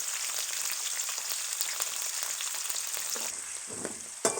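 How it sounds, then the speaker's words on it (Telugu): Tender tamarind leaves fry in a pan, producing a close, steady sizzle with light crackling that eases near the end, followed by a brief clink. "ఇది ఇలా కొంచెం వేగిన వెంటనే ఇలా కొంచెంసేపు వేగనివ్వాలండి"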